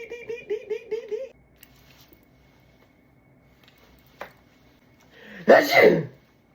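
A person imitating a sneeze, one loud, close, forceful burst near the end, preceded by a voice sing-songing a melody and a few faint clicks.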